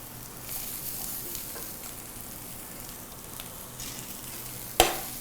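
Long capsicum strips sizzle and fry steadily in a hot pan for a dragon chicken dish, a constant hiss with light stirring scrapes and one sharp clink near the end, no talk.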